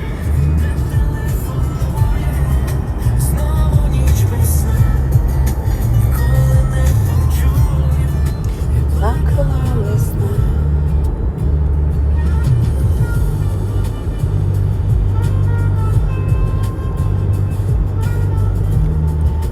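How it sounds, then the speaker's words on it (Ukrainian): Busy street traffic with many cars driving past, a continuous loud rumble of engines and tires with passing vehicles throughout, heard close without talk. "Ну, бачите, машин багато."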